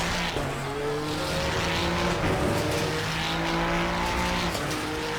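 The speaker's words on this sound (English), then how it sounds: "I'm trying to feed the gas back in to get the car to help it rotate and also accelerate." Ferrari 296 GT3 race car in Assetto Corsa Competizione at Barcelona, engine revving up hard under acceleration with rising pitch and some tyre squeal, loud and continuous.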